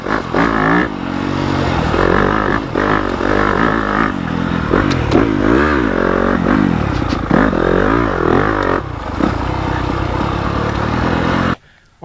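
A Yamaha YZ250FX dirt bike with a 270 big bore kit and stage 2 hot cams revs hard, its engine note rising and falling through repeated throttle blips, loud and close with some clatter, cutting off abruptly at the end.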